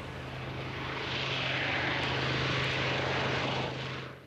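A World War II-era B-25 propeller bomber drones steadily overhead, its piston engines producing a loud, continuous, even roar that holds for several seconds, then begins to fade.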